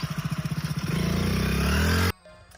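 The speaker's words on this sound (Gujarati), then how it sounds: "ચાલે બાઈક લઈને આવે છે" A motorcycle engine putters in a quick, even rhythm, then rises into a steady, louder rev before cutting off abruptly to near quiet.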